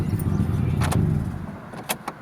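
A 1998 Ford Ranger XLT extended cab is shut off with the key. A low idle rumble runs steadily, then dies away, with a few sharp key clicks and jangles near the end.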